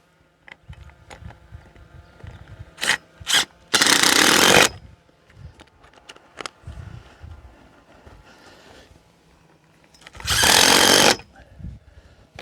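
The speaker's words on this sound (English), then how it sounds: "I just drill straight into the feet." A power drill bores into the feet of a freestanding 4x4 awning in two loud, dense bursts of a second or so each, with quieter handling knocks and clatter between them.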